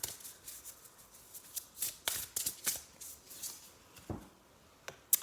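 Flower medicine oracle cards are shuffled and handled, giving a run of soft riffling flicks and slaps of varying loudness, close up, with one sharper snap near the end and no speech.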